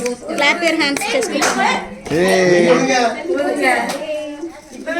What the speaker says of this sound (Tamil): கைத்தட்டு கைத்தட்டு.